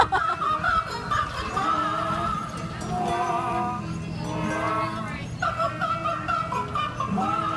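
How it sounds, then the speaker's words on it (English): Chickens and a rooster at a family farm clucking and calling in a steady, busy chorus, with overlapping tonal squawks close by and a voice faintly mixed in. "Wow, these chickens can sing."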